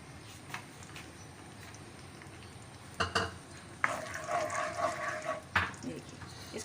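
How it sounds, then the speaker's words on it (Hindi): Whole spices fry in ghee for a spicy beef qorma, with quiet sizzling, then clanks of a spoon stirring the pot and bursts of louder frying as ingredients move. "इसको हम इस तरह से घी में डालेंगे, इसको तड़का आएगा, इसका फ्लेवर निकलेगा"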